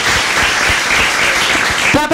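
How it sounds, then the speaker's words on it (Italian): Warm audience applause at a church gathering fills the space, dense and continuous clapping throughout, with a voice starting up just at the very end. "Un applauso di cuore."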